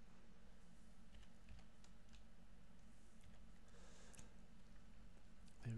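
Keys tapped on a computer keyboard while working in a spreadsheet, a soft, quiet patter of clicks in an uneven rhythm over a low steady hum, no voices.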